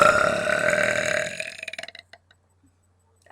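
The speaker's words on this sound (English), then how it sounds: "That's how I burp." A long, loud throaty burp rolls out for over a second, then breaks into a few fading croaks before silence.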